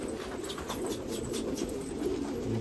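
Steady cooing from a flock of flying pigeons kept on Subhash Road in Nashik, a continuous close murmur of soft bird calls with no talking.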